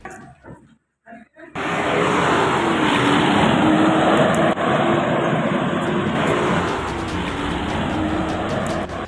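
A deputy commissioner's car pulls away with a loud, broad roar of engine and road noise after a moment of near silence, recorded on a mobile phone, the sound holding steady and then easing slightly.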